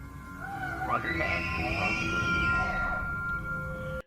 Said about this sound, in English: That is an elk call.